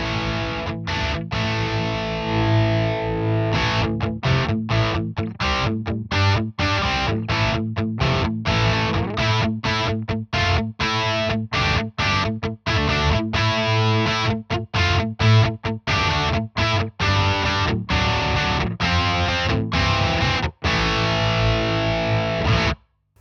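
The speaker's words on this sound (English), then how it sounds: "So this is my lead channel." High-gain electric guitar lead tone through an ENGL Ironball Special Edition amp with noise gate engaged, dense distorted riffing with sharp gated stops between phrases, loud and close throughout.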